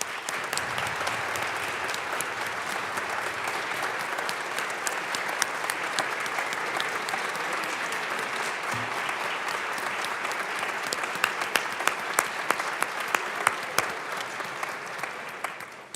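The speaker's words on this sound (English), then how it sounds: "Please join me in a round of applause." A large audience applauds in the Colorado House of Representatives chamber, sustained and even clapping that fills the room for the full stretch, with a few sharper claps standing out near the end.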